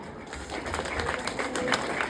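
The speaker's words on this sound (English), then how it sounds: "So let's clap for her" Audience clapping at a school science exhibition, a steady mid-level patter of many hands over about two seconds with faint crowd murmur underneath.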